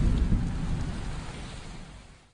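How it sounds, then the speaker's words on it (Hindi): Heavy rain pours over the Himalayan peaks at Kedarnath, a dense continuous hiss with low rumbling thunder underneath, loud at first and fading away toward the end. "देखते ही देखते बारिश ने केदारनाथ की चोटियों को भिगोना शुरू कर दिया।"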